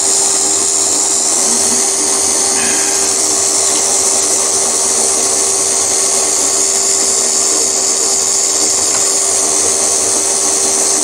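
A milling machine spot-drills and drills a 5mm tapping-size hole for a mill vice stop, making a continuous loud high whine and grinding hiss that holds steady throughout with no speech.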